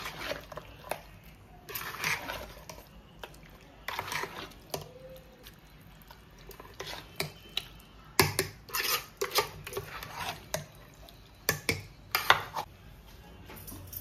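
Biryani marinade stirred in a metal pot at home, repeated scraping and clinking of a spoon against the vessel with soft wet squelches, irregular strokes at close range.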